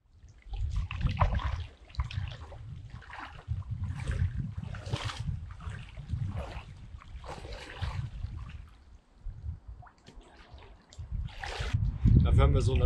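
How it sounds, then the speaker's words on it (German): People wash themselves in the Dordogne river, with splashing and sloshing water in uneven bursts close by, broken by brief pauses, while voices talk intermittently over the water. "gehen wir uns jetzt im Fluss waschen"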